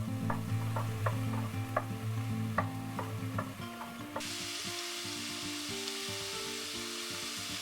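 Turkey mince cooks in a pan with a low sizzle while a utensil scrapes and stirs it in short clicks, under steady background music; the sizzle grows broader and hissier partway through.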